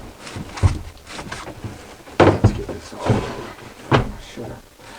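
Aboard the motor vessel Memphis, a cabin door bangs and clatters through several knocks and thumps, close and uneven, with low movement noise between the hits.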